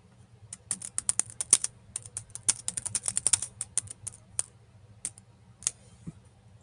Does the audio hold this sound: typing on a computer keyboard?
yes